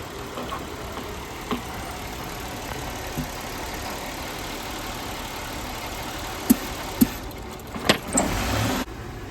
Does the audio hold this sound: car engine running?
yes